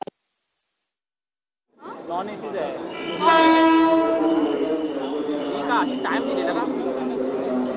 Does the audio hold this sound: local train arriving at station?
yes